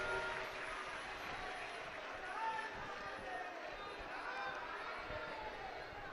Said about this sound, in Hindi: और जोरदार ताली बजाएं ब्रह्मा विष्णु महेश के लिए